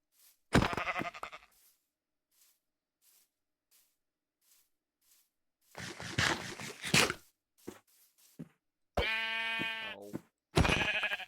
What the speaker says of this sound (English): I'm fairly sure I left sheep alive.